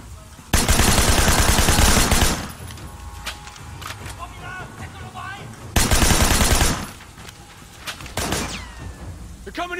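Shotgun blasts ring out in the action game Sleeping Dogs, in two long loud bursts of rapid firing separated by quieter stretches with scattered shots and distant clatter.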